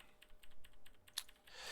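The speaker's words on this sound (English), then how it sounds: "His clicking is very loud, so I'm gonna turn it down." Rapid, loud mouse and keyboard clicking from a professional League of Legends player in mid-game, a brisk rhythmic run of sharp clicks with one louder snap near the end and a hissy wash at the close; no talking.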